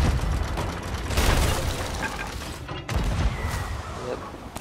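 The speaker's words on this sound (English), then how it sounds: "Try to shoot blunders at their stairs." Cannon fire from a ship in a pirate video game, launching blunder bombs: loud booming blasts and bursts over choppy wind and water noise, with a voice speaking in between.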